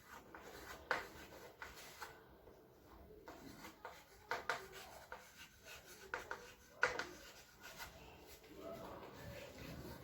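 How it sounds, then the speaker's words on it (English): Chalk or marker scratches and taps in quick, uneven strokes while a lesson title is written on a board, quiet and close, with soft talk in places. "I'm writing that MG Mahatma Gandhi"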